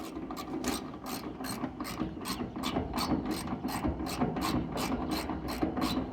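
A ratchet clicks in a fast, even rhythm while tightening bolts on a new fuel tank fitted to a 1972 Chevrolet C10 pickup, close and steady with no talk.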